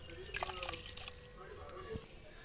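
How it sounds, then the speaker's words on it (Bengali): Mashkalai lentils washed by hand in water, with a short burst of sloshing, gritty crunching and dripping that then fades to a quiet trickle. "দুবার চালনে ধোয়া হয়ে গেলে আবার এইভাবে ধুয়ে ফেলবো।"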